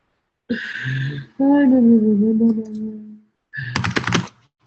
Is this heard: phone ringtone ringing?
no